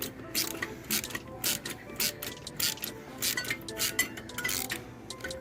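Socket wrench ratcheting during a turbo install on a Can-Am Ryker, rapid repeated clicking strokes in close bursts with faint metallic clinks and little talk.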